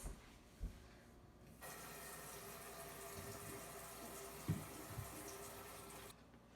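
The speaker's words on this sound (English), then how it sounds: "we need to go wash our hands" Water runs steadily from a household tap into a sink for several seconds as hands are washed under it, a continuous close hiss with small splashes, starting and stopping abruptly, with no voices.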